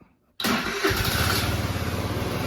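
A 50cc moped engine cold starting after silence: a sudden loud starter crank catches into a fast, rough, close idle that keeps running steadily.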